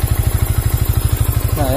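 A Yamaha Vixion motorcycle engine idles nearby with a steady, even low chug, loud and close, and a brief voice comes in at the very end.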